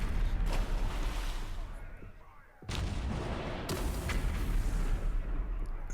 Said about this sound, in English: Suddenly it reveals the cannons.